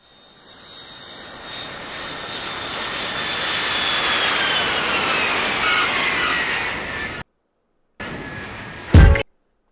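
An airplane landing, a steady jet engine roar that builds over several seconds and holds loud, then cuts out abruptly, followed by a brief burst of noise near the end.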